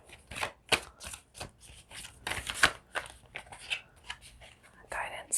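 Cards being shuffled and riffled in a quiet room, a series of soft crisp bursts of flicking paper at an irregular pace, close and fairly faint, with a low voice speaking softly between them.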